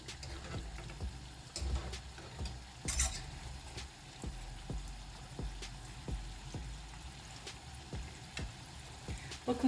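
Twisted donut dough frying in hot oil gives off a steady crackling sizzle with scattered sharp tick-tick pops spread across the stretch, fairly quiet and heard alone.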